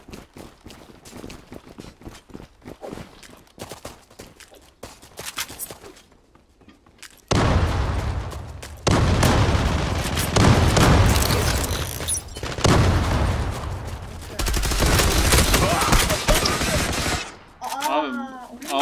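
Gunfire in the online shooter Zula, starting with scattered shots and then bursting into loud, sustained automatic fire with heavy booms, while players talk over it.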